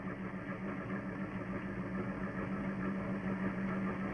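A warm 1977 Chrysler engine with Lean Burn system idling at specified RPM and timing, a faint, even low hum with a steady tone running throughout, no talk.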